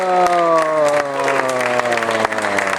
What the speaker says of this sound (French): c'est Romain Comet, qu'on peut applaudir